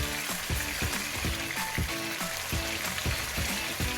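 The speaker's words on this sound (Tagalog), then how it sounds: "Oras na para prituin ang ating binabad na Blue Marlin." Marinated blue marlin steak frying in hot oil, a loud continuous sizzle with rhythmic crackling pops running steadily throughout, close up and alone.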